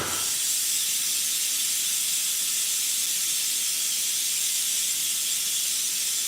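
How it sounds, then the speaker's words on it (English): Steam hisses out of a cooker's release valve, a loud, bright, continuous rushing jet that starts abruptly and holds steady without pause. "It won't open until the steam is gone."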